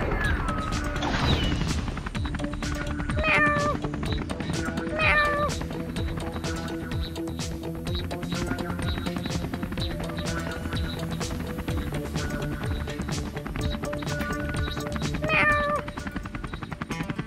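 A cartoon kitten meows several times in short, high bursts over a busy, layered score with occasional crashes and whacks, in an animated rescue scene with a fire truck.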